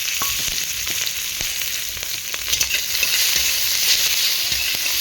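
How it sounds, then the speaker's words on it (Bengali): Green chillies fry with garlic in hot oil for a small-fish and jute-leaf dish, producing a loud, continuous sizzle with occasional light ticks from stirring. "কাঁচা লঙ্কা একটু ভাজা ভাজা করে"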